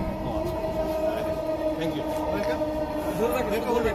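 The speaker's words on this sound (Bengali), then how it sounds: "তো চলুন আমরা মেট্রো রেলে ভ্রমণটা এনজয় করতে থাকি।" Dhaka metro rail train running, heard from inside the carriage as a steady rumble with a sustained whining electric-motor tone, and speech over it.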